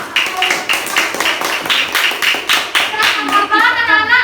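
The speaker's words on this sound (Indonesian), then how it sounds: "tepuk tangan untuk kelompok" Classroom applause for a student group, a steady run of sharp rhythmic claps from a small group of children, close and fairly loud, loosening near the end as a voice briefly cuts in.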